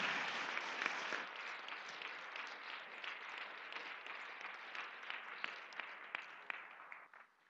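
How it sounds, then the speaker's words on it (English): An audience at a 2015 Kitchener-Waterloo provincial election debate applauds the candidates, a dense, even roomful of clapping that holds steady for several seconds before thinning out and stopping. "Can we all give a round of applause to the candidates?"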